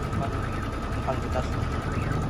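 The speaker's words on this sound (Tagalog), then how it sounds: "Ganun po kaganda po ito pong ating sewing machine. May automatic button hole na po siya." A sewing machine stitches an automatic buttonhole in a low, continuous motor hum. Its needle rhythm is partly masked, and a person talks over it throughout.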